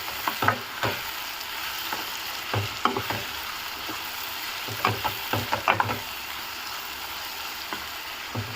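Brinjal and tomato curry stirred in a pan, a soft sizzle of frying under repeated scraping spoon strokes that come in short irregular bursts, close by and without talking.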